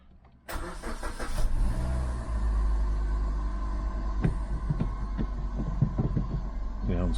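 A 2008 Suzuki Swift engine idles steadily after a new set of ignition coils, starting up with a burst and settling into a continuous, even running drone with a low throb, close by and with no talk over it.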